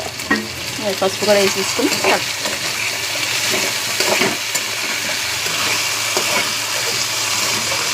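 Potatoes frying in a pan with turmeric give a steady close sizzle, with scraping stirs in the first few seconds and then a continuous, even hiss. Someone speaks briefly at the start.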